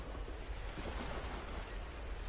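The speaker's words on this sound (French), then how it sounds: "les vagues viennent doucement caresser le rivage" Ocean waves wash steadily onto the shore, a soft, continuous surf hiss with gentle swells rising and falling and no voices.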